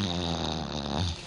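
A person imitates a deep snore, producing one long, low, rattling inhalation close to the microphone that fades out at the end.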